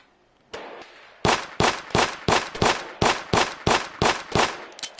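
A Mauser C96 pistol fires in a VR shooter: a lone click, then about ten sharp, loud, close gunshots in a quick, steady rhythm, each cracking out with a short tail, with no voices.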